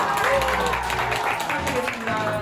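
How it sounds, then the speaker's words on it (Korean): Audience applause for a team at a prize announcement during a treasure-hunt game event on a themed street in Jochiwon, Sejong, a brief burst of scattered clapping under a crowd's murmur. "박수 부탁드리겠습니다"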